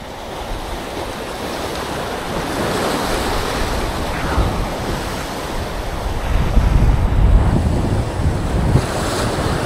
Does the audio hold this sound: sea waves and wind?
yes